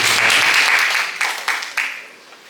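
Audience applause at a Malaysian secondary-school speech competition, a dense burst of clapping that starts loud and fades over a few seconds, with a couple of sharper claps near the end.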